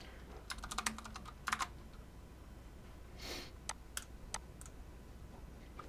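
Computer keyboard keys click in a quiet room, with a quick burst of rapid typing followed by a few scattered single taps, faint and close.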